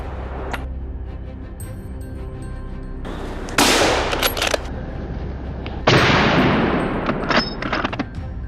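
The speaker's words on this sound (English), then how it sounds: "I tracked them and fired multiple rounds, adding more trophies to our tally." Gunshots ring out at wild boar in brushy terrain: a few sharp, loud reports with long echoing tails, spaced a couple of seconds apart, with fainter shots between.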